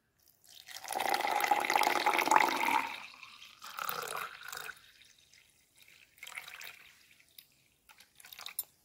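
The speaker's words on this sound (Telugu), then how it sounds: "తర్వాత మనము వాటర్ పోసుకోవాలి" Water poured into a drink glass, a continuous splashing pour for about two seconds, then several shorter trickles and drips as the glass fills.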